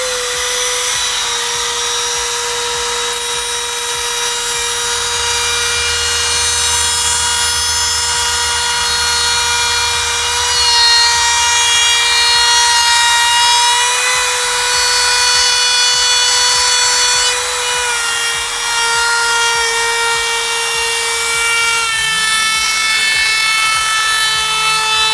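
A power tool with a freshly tightened, reinstalled bit cutting into laminated wood while building a ball python hatchling rack, a loud steady high-pitched whine with strong harmonics running continuously and shifting slightly near the end.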